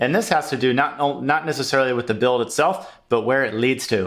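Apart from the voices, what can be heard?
No distinct noise like a dog, phone or traffic.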